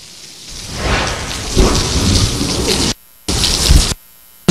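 Heavy rain pours down hard during a thunderstorm, a loud, dense roar of downpour with low rumbling beneath, building and swelling, broken by two abrupt cuts to silence.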